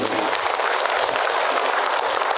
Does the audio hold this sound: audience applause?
yes